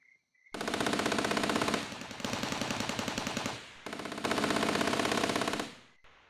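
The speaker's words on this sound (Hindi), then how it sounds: "जैसे ही राजन ने पहली गोली चलाई, सबकी स्टेन गनें भी गरज उठी।" Sten guns fire in three long, continuous bursts of rapid automatic fire, loud and close, separated by brief pauses.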